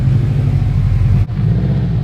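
A Subaru STi fitted with a carbon fiber exhaust runs with a deep, steady rumble close by, with a brief dip in the sound partway through.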